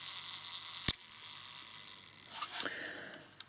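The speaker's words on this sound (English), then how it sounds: "You can hear it winding up a little mechanism, because then when you press the button, it uses the self timer spring to to count." A Kodak Retina IIIc 35mm rangefinder makes a crisp single click, then a quiet pause and a faint mechanical whir and ticks from its self-timer, ending in another small click, all close-up in a quiet room.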